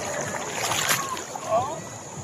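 A strong river current at Daraitan in Tanay, Rizal rushes and splashes in a dense, continuous wash of water noise, close and steady throughout.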